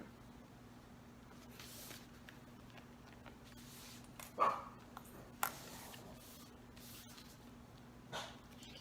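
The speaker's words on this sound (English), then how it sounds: "Sorry about my dog. He thinks there's someone in the driveway," A house dog barks at an empty driveway during a home sewing session: three faint, muffled barks spaced a second or more apart, heard from a distance over a steady low hum, with no talking.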